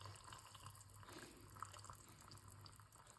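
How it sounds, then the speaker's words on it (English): Hot water from a new kettle poured into an instant spicy noodle cup up to the fill line, a steady liquid stream trickling and splashing continuously for a few seconds at moderate, close range. "So now I'm going to add hot water"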